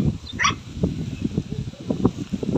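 A pet dog barks and yips a few times outdoors in strong wind, the short barks sitting close over a rumbling, gusty background.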